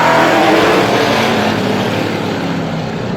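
Vintage race cars roar away together at the start of a heat race at Star Speedway, a loud, dense wash of engine noise that swells at the green flag and then slowly fades as the pack moves off.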